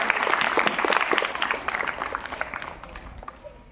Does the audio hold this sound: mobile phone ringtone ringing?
no